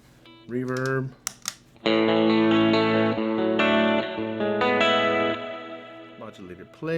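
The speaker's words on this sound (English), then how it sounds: "Reverb." A guitar played through a reverb effect pedal on a pedalboard, bright sustained chords and notes washing out with long decaying tails, loud and close, after a few short plucked notes.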